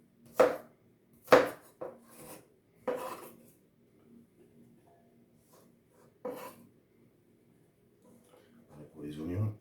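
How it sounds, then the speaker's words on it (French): A knife chopping vegetables on a board for a vegetable consommé, several crisp, separate cuts close by, with quiet speech toward the end. "Donc, je vais couper dans ce sens."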